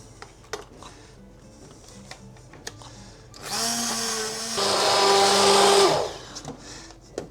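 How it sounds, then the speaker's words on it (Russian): A kitchen blender purées bread boiled with apples, starting abruptly with a loud, steady whir that rises in pitch midway and runs for about two and a half seconds before cutting off, surrounded by faint kitchen clinks. "И сейчас пропустим все это через блендер."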